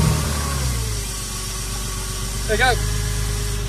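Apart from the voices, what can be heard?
Porsche Boxster engine started and idling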